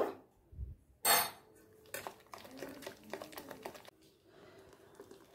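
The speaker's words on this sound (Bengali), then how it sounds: "এবার হাতের সাহায্যে ভালো করে ফেটিয়ে নেব।" Soaked lentil batter for dahi vada, mixed with fennel and a pinch of asafoetida, is beaten by hand in a bowl, giving irregular close slaps, clicks and squelches in quick bursts with brief pauses.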